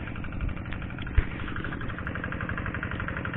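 Tractor engine working a flooded rice paddy, a steady mid-pitched chugging drone throughout, with one brief knock partway through and no talking.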